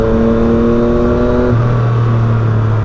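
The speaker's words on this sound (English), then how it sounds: "It just sounds so wicked when you're getting on the throttle." A Yamaha FZ-09 three-cylinder motorcycle revs hard through a loud aftermarket exhaust, its pitch holding high and then dropping to a lower steady drone, close and continuous.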